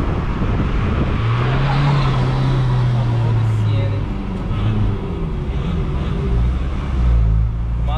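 A chipped VW Amarok 2.0 pickup with a straight-through exhaust rumbles close by, its engine note rising and falling under revving, with a low droning tone throughout.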